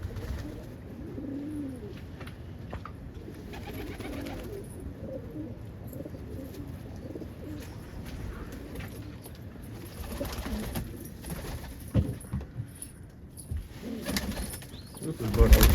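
Pigeons coo in a loft among almond and split-colored birds, soft repeated coos blended into rustling, wind-like noise with occasional wing flutters and someone talking nearby.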